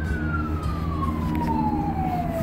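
A fire engine siren wails in a long, steadily falling tone over the rumble of a running truck, loud and close.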